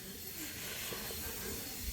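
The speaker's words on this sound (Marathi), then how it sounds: "आत्ता तरी कुकर लावलाय" A kitchen pressure cooker lets out a soft, continuous hiss of steam, faint and unbroken for the whole two seconds.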